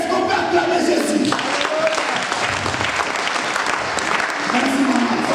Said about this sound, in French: est-ce qu'on peut acclamer Jésus?